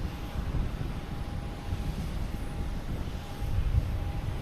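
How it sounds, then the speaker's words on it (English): A Virgin Atlantic airliner inbound from Heathrow turns over the South Shore toward Boston Logan, heard as a steady, broad engine roar with a faint tonal whine, distant but continuous throughout. "there we have Virgin Atlantic 11B coming in from Heathrow"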